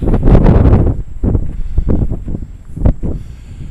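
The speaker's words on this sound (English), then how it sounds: "It's really windy now actually." Strong wind sweeps a bleak, cold hillside at a wild camping spot, with sheep grazing nearby. Loud, gusty buffeting and rumbling rise and fall throughout, with sharp blasts hitting the microphone and no voices.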